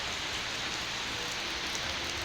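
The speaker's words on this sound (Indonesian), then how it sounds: "Ini dari kemarin ya kayak gini, hujan terus." Steady, dense rain falls under a sky full of dark clouds, a continuous even hiss of drops with no pauses and no voices.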